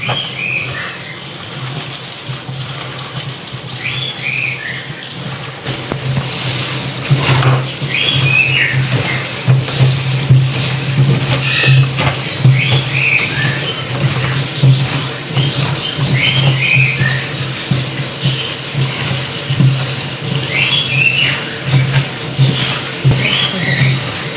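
Taro root (arvi) is washed in a sink under running water, a steady tap flow that grows louder midway, with splashing and rubbing of the roots, close and without talk.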